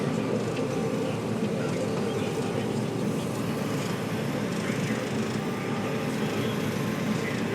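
A combine harvester runs steadily while harvesting corn, blowing leaves and trash out the back through a straw chopper; a loud, continuous broadband machine roar holds throughout with no break.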